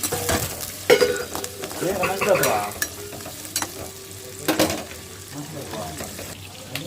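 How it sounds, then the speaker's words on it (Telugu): Thinly sliced onions and green chillies stirred in a frying pan for a Sunday chicken dish, crackling sizzle with repeated scraping strokes and clinks of a spoon, close and fairly loud. "సన్నగా తగిన ఆనియన్స్ ఆనియన్స్ పచ్చిమిర్చి వేసుకోండి మొత్తం వేసి కలుపుకొని"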